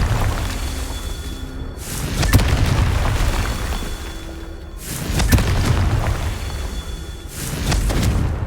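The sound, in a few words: Confringo blasting spell explosion, from a Harry Potter video game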